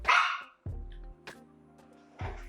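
A dog barks close and loud, one sharp bark followed by a drawn-out whining howl and then another bark, in an indoor room with no talking.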